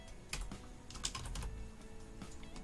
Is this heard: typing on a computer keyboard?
yes